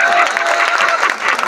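An audience at a Hindi poetry recital in Sitamarhi claps steadily and loudly, a dense burst of hand claps lasting just over a second and a half.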